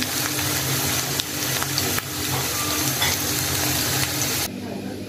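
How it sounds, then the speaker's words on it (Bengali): Singara frying together in one batch of oil, a loud close sizzle running continuously with brief handling knocks, alone without talk. "আর একসাথেই ভেজে নিতেছি"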